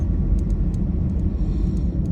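Car traffic at night in Mersing town, a steady low rumble of passing vehicles close by with faint higher ticks and hiss above it, and no one talking.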